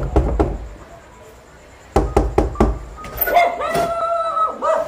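Several sharp knocks on a door, a quick burst of about four raps, then a pause and a second series of knocks, close and loud in a home at night, followed by faint voices and movement.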